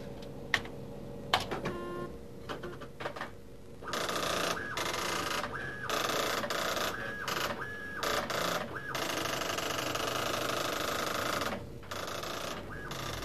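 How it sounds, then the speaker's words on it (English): A high-speed dot-matrix style printer chatters in steady mechanical bursts, with brief pauses as the print head shuttles back and forth, close and fairly loud. "The document I've just revised can now be printed out fast using a high-speed printer."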